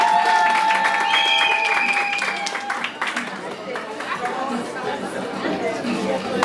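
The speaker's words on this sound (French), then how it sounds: "Veuillez également applaudir." Applause rings out at a civil wedding ceremony in Yaoundé, a crowd clapping steadily and loudly throughout, mixed with murmured chatter and voices.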